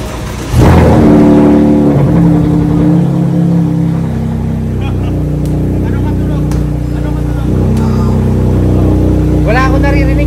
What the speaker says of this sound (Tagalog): Yan ba yung tunog jeep?